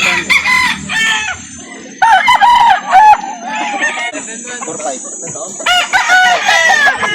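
Chickens and roosters at a poultry market in Calauan, Laguna crow and cluck close by, with several overlapping calls, while people talk in the background.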